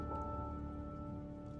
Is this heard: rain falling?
yes